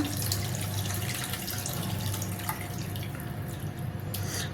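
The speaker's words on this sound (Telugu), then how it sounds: "ఇప్పుడు ఈ చింతపండు పులుసు పోసుకుందాం" Tamarind juice is poured into a bowl for raw tamarind soup, a continuous soft splashing trickle of liquid with faint drips, steady and close throughout.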